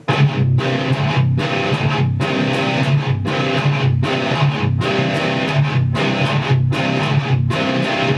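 A heavily distorted electric guitar chugs through a fast, driving thrash riff, with regular rhythmic breaks repeating loudly throughout, no voices.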